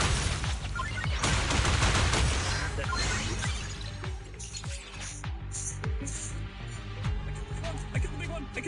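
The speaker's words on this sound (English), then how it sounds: "It is the gun from Alien Isolation." Rapid gunfire from the Alien Isolation gun in a video game: a loud burst of shots early on, then a string of sharp individual cracks at an uneven rhythm, each with a low thud, over a dense background of game noise.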